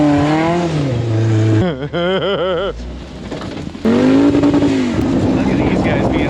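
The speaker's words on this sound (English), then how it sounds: "Turbo sounds." An off-road vehicle's engine climbs and falls in loud, close revs with rising turbo whine on a rocky extreme trail, while people talk and exclaim over it throughout.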